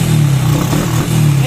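A Honda Wave 100 motorcycle with a battery-operated CDI idles close by, its engine running choppy and uneven with a steady low drone that dips and stutters, alone without talk.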